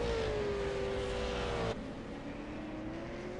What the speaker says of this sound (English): when you watch these cars go into these chicanes